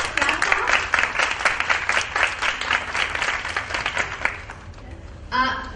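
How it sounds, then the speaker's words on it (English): An audience at a Montessori conference lecture applauds, sending steady dense clapping for about five seconds before it thins out and a voice begins. "Let us conclude her lecture with that applause that you will so obediently clap now."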